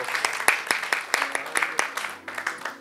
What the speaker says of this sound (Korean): 우리 한번 격려의 박수 할게요